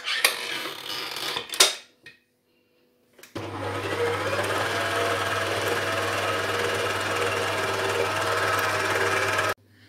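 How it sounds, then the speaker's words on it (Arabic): A handheld electric mixer whirs steadily as it beats cake batter, with a few knocks and clatters before it settles into a loud, continuous buzzing drone that cuts off abruptly at the end. "وغادي نخليها عاوتاني تميلونجا حتى يولي ليا عاوتاني الخليط ديالي متجانس"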